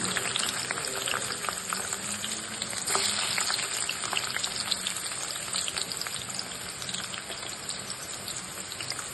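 Garlic sizzles in hot oil for a village-style date pickle, a dense, even, close crackle that holds steady throughout with no talking.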